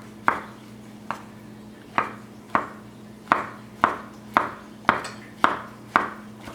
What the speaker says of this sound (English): the portobello mushrooms. We're going to slice them very thin.